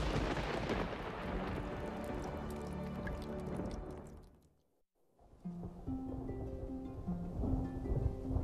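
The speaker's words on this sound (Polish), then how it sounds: "Nadciąga burza." A storm rolls in with a dense rush of rain and rumbling thunder, fading almost to silence midway before the rain and rumbles build again, layered over tonal music.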